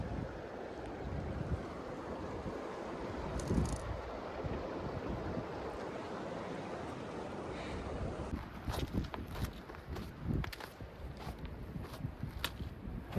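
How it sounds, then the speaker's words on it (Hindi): Steady rushing water noise of a small stream flowing under rocks on a Himalayan trek in Nepal, with gusts of wind buffeting the microphone and a few faint knocks. "और उस पानी के बहने की आवाज़ है ये।"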